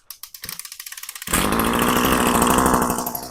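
A few quick rhythmic pulls of a Husqvarna 321S15 petrol lawn mower engine, then it catches and runs with a loud, steady, buzzing roar close by.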